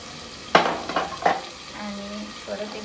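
Kashmiri chili spice masala frying in a pan for prawn biryani, with a few sharp stirring scrapes and sizzling bursts up close, then a quieter steady sizzle.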